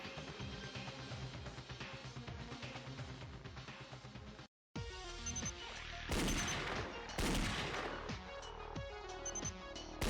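Rapid gunfire from shooting speech bubbles in the video game Danganronpa Another, dense bursts of rattling shots with a brief silent gap midway, then louder crashing hits and impacts.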